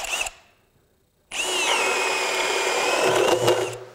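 A Ryobi 18V ONE+ HP brushless 1/2-inch hammer drill driver starts, stops briefly, then bores a 1-inch hole, the motor whining loud and close in a sustained run that bogs slightly as the bit bites, with no speech.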